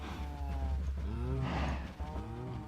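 Minecraft cows moo in low, drawn-out calls, two or three overlapping moos heard clearly and fairly close, with no talking.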